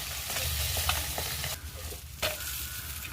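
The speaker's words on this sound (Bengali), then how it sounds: "মাছ কটা আছে ওগুলো ভেজে ফেলে দিচ্ছি" Fish frying on a clay village stove, a steady close sizzle with scraping and stirring clicks, a short lull midway before the crackle returns.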